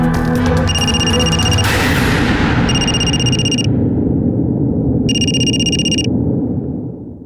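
A phone ringing over speakerphone after a number is dialed: repeated electronic ringtone bursts with pauses between, loud and close, with a low background rumble and no talk.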